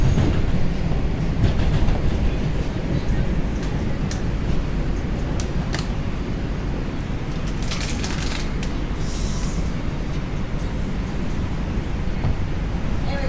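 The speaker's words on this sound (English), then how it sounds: "Oh, here comes another train." An elevated subway train in the Bronx, New York City, rumbles past in a steady heavy roar, with rail screeches and a few clanks rising above the constant low drone.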